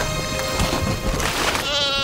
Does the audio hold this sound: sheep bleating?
yes